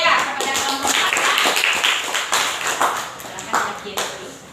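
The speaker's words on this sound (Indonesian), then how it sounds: "kita beri tepuk tangan dulu ya kepada kelompok kita" A classroom group claps together in a lively burst of applause, the hand claps coming close and crisp while voices talk and call out over them.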